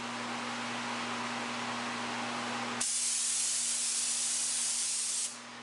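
An airbrush hisses steadily with a constant compressor hum underneath while spraying paint through a paper stencil, then the spray shifts to a brighter, sharper hiss for a few seconds before easing off.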